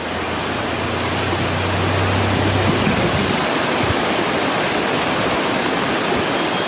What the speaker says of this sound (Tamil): கொடைக்கானல் மற்றும் சுற்றுவட்டார மலை கிராம பகுதிகளில் சுமார் 1 மணி நேரத்திற்கு மேலாக கனமழை பெய்தது. இதனால் அருவிகளுக்கும் நீர்வரத்து அதிகரித்தது.